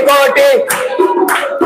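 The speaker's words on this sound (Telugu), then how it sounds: "చప్పట్లు" A congregation claps along to a Telugu Christian worship song at a church gathering, the steady claps blending under loud, continuous group singing.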